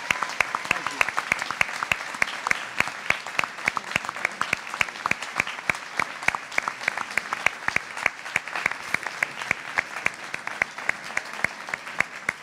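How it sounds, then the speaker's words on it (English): A crowd at a Maryland State Senate District 38 candidate forum claps steadily and enthusiastically, a dense sustained round of applause with no break. "Let's give them both a big round of applause."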